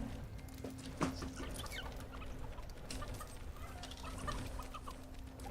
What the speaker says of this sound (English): I forgot about the chickens.